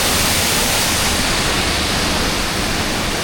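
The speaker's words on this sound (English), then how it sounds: "We're at the waterfall, quite near to the top." Waterfall near the top of a wooded climb, heard as a dense, steady roar of rushing water, loud and close, with no voices.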